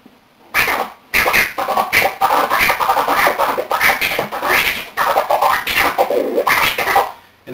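A crab scratch on a digital turntable, rapid fluttering bursts of chopped record sound with a rippling stutter, loud and close, repeated in short runs with brief pauses.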